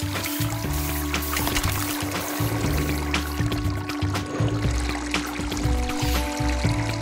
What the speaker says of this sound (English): turn on the water pump.